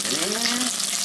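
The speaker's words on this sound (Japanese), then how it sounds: "中火ぐらいでこう油回して焼きを入れていきます" Kabocha squash and green pepper sear in oil in a pan over medium heat, giving a continuous close, bright sizzle and crackle with a faint low hum beneath.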